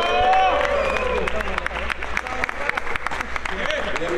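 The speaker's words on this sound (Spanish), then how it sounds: "Un aplauso." Applause from the audience at the awards ceremony of a national Warhammer 40,000 tournament in Mérida, a dense burst of clapping with some crowd murmur and scattered voices, starting loud and tapering slightly.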